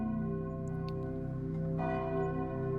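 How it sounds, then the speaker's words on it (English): Deep bells toll steadily in the distance, a faint, sustained resonant drone of layered tones with a soft swell partway through and no voices. "he soon begins to hear the deep tolling of bells in the distance"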